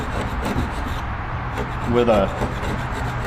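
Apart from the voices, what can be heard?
metal scraper scraping candle wax off wooden cabinet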